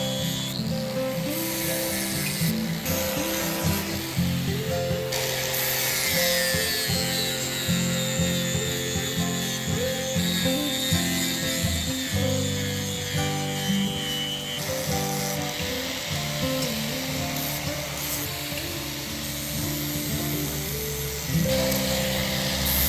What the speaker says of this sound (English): we're only grinding the edges.